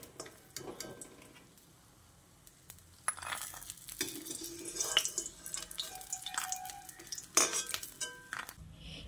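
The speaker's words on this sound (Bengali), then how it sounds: "এখন বড়িগুলো তুলে নিচ্ছি।" Fried bori (lentil dumplings) being lifted out of frying oil: quiet clinks and scrapes of a slotted spoon against the pan, a faint oil crackle, and a few louder metallic knocks toward the end, with no speech.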